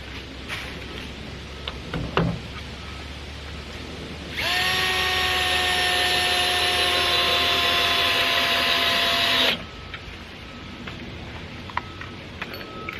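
A cordless lithium power drill whirs loudly for about five seconds in a steady high whine, with quiet handling noises before and after.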